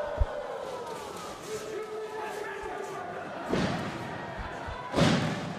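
A professional wrestling scoop slam, a body hitting the ring mat with a heavy thud, heard twice as deep booming impacts over a steady arena crowd and a commentator's voice.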